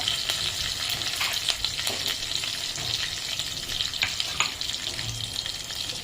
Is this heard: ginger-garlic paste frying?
yes